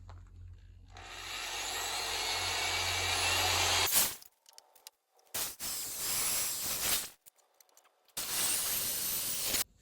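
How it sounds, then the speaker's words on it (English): An old, cheap corded drill with a 3/8 bit bores holes in steel angle, producing loud grinding, whirring bursts separated by brief pauses, close up, with a low motor hum at the start. "Just using a corded drill here, just an old cheap one, and a 3/8 drill bit."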